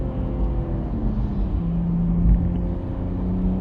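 A BMW M140i fitted with a Remus exhaust burbles at a steady low rumble under light throttle, with one brief sharp pop near the end.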